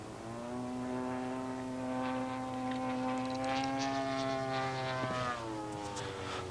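A high-powered Extra 300 aerobatic monoplane drones steadily with its propeller engine, the pitch shifting slightly as it manoeuvres, loud and continuous with no talk.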